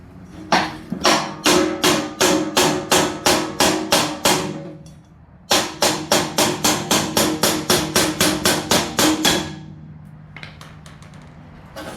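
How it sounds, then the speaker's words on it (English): Rapid, loud brass-tipped hammer blows ringing on metal while refitting the engine drive pulley of a Snapper 4/22 snowblower, two long steady bursts of about a dozen strikes each, close up, followed by a few faint taps. "I recommend using a brass tip hammer when hitting this."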